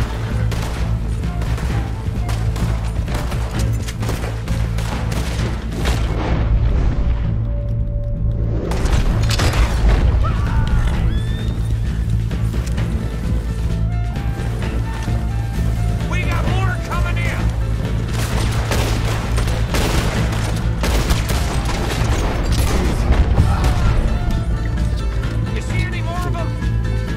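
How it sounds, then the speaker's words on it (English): Revolver shots and other gunfire ring out in a Red Dead Redemption 2 town shootout, loud booms and cracks scattered through a dense, busy game mix while players talk excitedly throughout. "I thought that was a shotgun. It was a revolver."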